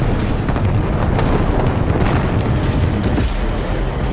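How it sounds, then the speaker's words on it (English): Flak anti-aircraft fire bursts beneath a formation of WWII B-17 bombers in a dense, rumbling barrage, loud and continuous with overlapping booms and crackling detonations filling the whole span. "Flak erupts directly beneath them and all hell breaks loose."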